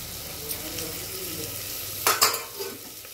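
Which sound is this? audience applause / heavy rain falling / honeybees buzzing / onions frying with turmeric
onions frying with turmeric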